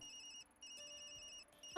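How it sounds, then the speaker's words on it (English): A mobile phone ringtone inside the video game Tokyo Dark, a repeating electronic melody of bright tones that pauses briefly, resumes, and ends in a sharp louder burst. "Sorry, Yumi, that's my phone."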